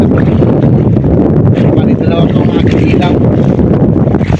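Strong wind at sea buffets the microphone in a constant loud roar, with a faint voice in the background.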